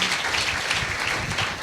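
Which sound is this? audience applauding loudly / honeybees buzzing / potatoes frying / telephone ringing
audience applauding loudly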